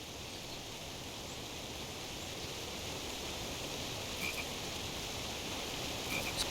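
In King's Quest, a frog gives a couple of faint, brief croaks near the end, against a steady hiss of ambient background noise.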